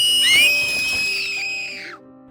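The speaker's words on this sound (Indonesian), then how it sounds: "Makhluk itu meniup peluit yang tadi menghilang, membuat Christian ketakutan bukan main dan berteriak sekencang mungkin" A creepy creature in the horror film Insidious blows a whistle, a loud, sustained shrill tone that wavers at the start, holds for about two seconds and then cuts off, with no talking over it.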